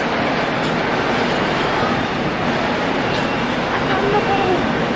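Tram in Zurich passing on the street, a steady close rumble of rails and wheels with faint squeal tones over city noise, with people talking.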